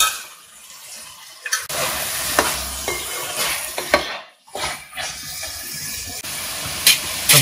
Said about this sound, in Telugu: పచ్చిశనగపప్పు యాడ్ చేసుకుని చక్కగా ఒకసారి కలిపేసుకుని